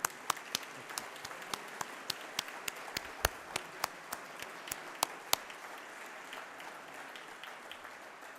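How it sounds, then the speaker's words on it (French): Applause from an audience at an academic opening ceremony, fairly quiet and distant, with a steady bed of many hands and a few louder individual claps popping out at irregular intervals. "Et je pense que ça mérite bien quelques applaudissements."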